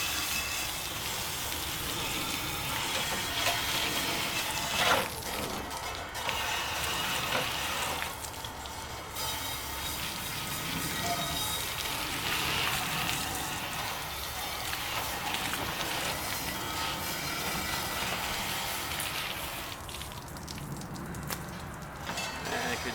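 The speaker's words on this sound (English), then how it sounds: "We'll go ahead and rinse this off." Tap water runs steadily as a cymbal is rinsed under it, a continuous hiss and splash with slight shifts as the metal moves through the stream.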